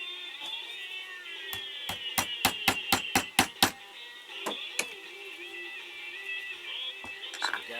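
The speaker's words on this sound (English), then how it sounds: "Now we're going to take a punch so we don't lose our center once we start sanding" A hammer drives a punch into a wooden ventriloquist dummy part, about nine quick sharp taps in a steady rhythm followed by two more, close and crisp over a faint background hum.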